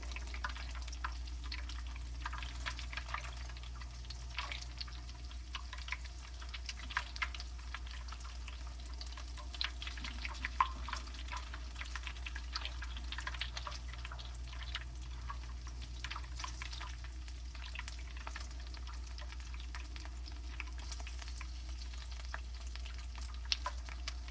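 Jalapeño pepper corn nuggets fry in oil, a continuous moderate sizzle and crackle with scattered pops and light stirring, steady throughout under a low background hum.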